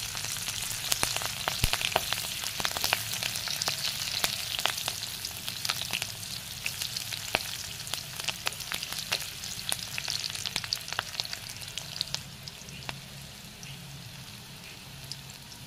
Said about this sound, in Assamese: এতিয়া তেল গৰম হ'ল, ইয়াতে নহৰু আৰু কেঁচা জলকীয়া কাটি থোৱা দি দিছোঁ